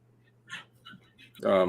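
A two-month-old puppy whimpers in the background: a few faint high whines and yips, then a louder, clearer whimper at the end over a steady low hum.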